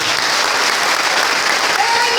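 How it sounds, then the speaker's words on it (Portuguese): A church congregation claps in a dense, steady burst of applause that fills the room evenly, loud and close, with no pause. "Agora você vai aplaudir o Senhor porque Ele te deu"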